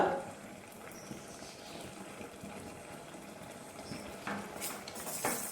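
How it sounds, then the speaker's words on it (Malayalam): Tomato pachadi with chili and turmeric powder being stirred in a pan, quiet low bubbling and faint sizzle with a few clinks and scrapes of a utensil against the pot near the end. "അതിനുശേഷം ഇത് നന്നായി ഒന്ന് ഇളക്കി കൊടുക്കുക"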